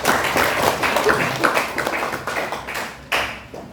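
Classroom applause for a student group after their presentation, a dense burst of clapping from many hands that fades and then flares briefly again at the end.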